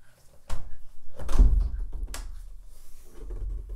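A door lifted off its hinges after the pins are pulled and moved out of the way, giving a few loud thumps and knocks with a heavy bump in the middle, close by with no talking.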